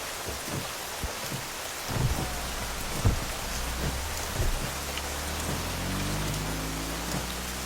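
Heavy rain pours steadily onto surfaces, with scattered louder drops and a low rumbling underneath, continuous and fairly close throughout, no talking.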